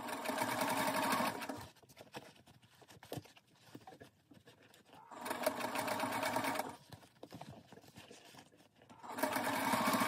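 A sewing machine stitches through the thick layers of a lined zippered pouch in steady whirring runs, close by, stopping in between for quieter handling and clicks before starting again.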